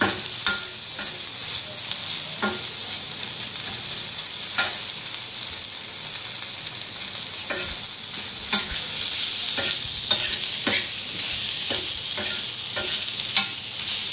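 Dried Bombay duck (bombil), with a couple of drops of oil, roasts crisp on a hot tava under a soft, continuous sizzle. It is broken by intermittent scraping and stirring strokes, with no talking.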